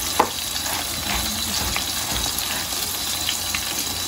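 Flour-coated fish frying in a pan in a rural home kitchen, a steady low crackling sizzle with a small clack near the start, moderately quiet and uninterrupted.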